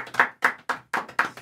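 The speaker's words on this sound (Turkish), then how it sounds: "Alkışlayın çok güzeldi." A small group claps in a slow, even rhythm, six distinct close claps in quick succession with brief gaps, with no talk over them.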